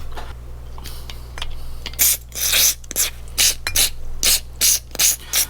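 Short hissing bursts of aerosol carburetor cleaner blasting through a passage in a Yamaha Enduro 125 dirt bike carburetor, repeated in a quick rhythmic series of loud, close spurts with brief gaps.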